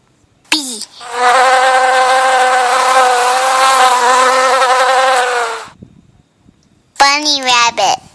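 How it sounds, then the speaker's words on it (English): A bee gives off a loud, sustained buzz that holds steady for about four and a half seconds, with brief spoken voices just before and after it. "Bee."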